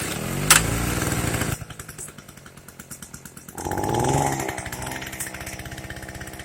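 A 2-stroke generator engine with a freshly repaired carburetor fires up loudly, its sharp buzzing idle dropping briefly before revving back up into a steady, rapid putter, running alone at close range.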